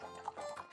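Hooves of a horse galloping in the video game The Legend of Zelda: Ocarina of Time, at Lon Lon Ranch, give a quick, brief clip-clop with a bright game-music tone over a steady background.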